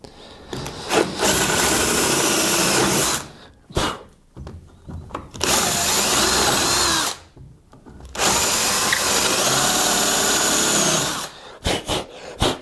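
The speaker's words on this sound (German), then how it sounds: "wir bohren jetzt unten nochmal ein Loch" A power drill whirs loudly in long sustained bursts boring holes in a log, pausing between runs, with short stops and starts near the end.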